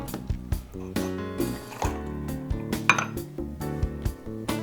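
Lemon juice is measured out at 22.5 ml for a Penicillin cocktail, with close clinks of metal bar tools and glassware and soft pouring and dripping in between, and no talk.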